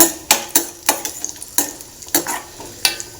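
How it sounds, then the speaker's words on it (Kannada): About eight raisins fry in a pan for carrot payasa, with a light sizzle under a series of sharp, rhythmic ladle taps and scrapes against the pan, close and clear, no talking. "ಒಣ ದ್ರಾಕ್ಷಿ ಅದನ್ನು ಚೆನ್ನಾಗಿ ಫ್ರೈ ಮಾಡ್ಕೊಳ್ಳೋಣ"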